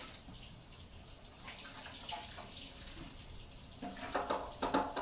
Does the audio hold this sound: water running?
yes